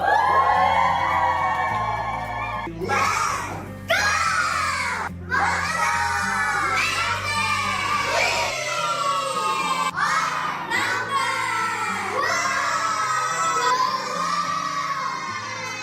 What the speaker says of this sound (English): Mokdong Poly is cheering for you!